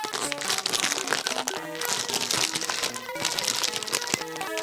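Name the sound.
crinkly snack package being opened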